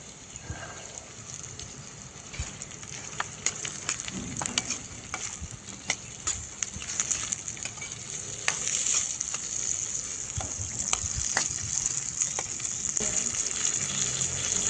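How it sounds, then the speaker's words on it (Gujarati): Onion and peas sautéing in a frying pan for a vegetable curry, a constant sizzle and crackle with scattered pops and occasional stirring, close and steady with no talking. "તો ડુંગળીને માત્ર 1 મિનિટ માટે સાતળવાની છે"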